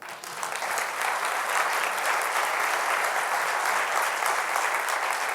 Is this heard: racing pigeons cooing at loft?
no